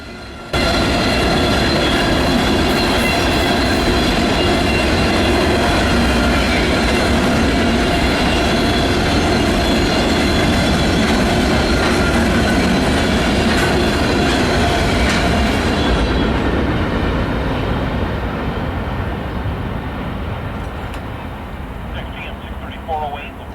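A train passes close and loud as a continuous roar with rumbling wheels and rail clatter, holding steady for about sixteen seconds before slowly fading; a voice is heard faintly under the noise.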